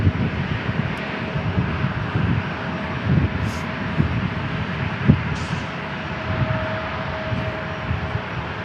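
Steady jet engine roar from a plane holding before takeoff at San Diego International Airport, a broad continuous rumble heard from a distance with wind buffeting the microphone.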